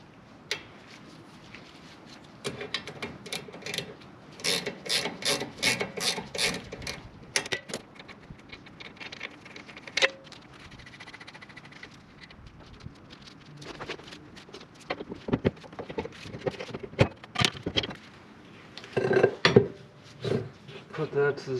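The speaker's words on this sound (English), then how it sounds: "Let's get this knuckle out of here." Metal clanking and rattling as a steering knuckle with worn ball joints comes off a 1968 VW Beetle, with irregular close knocks and scrapes of parts and tools.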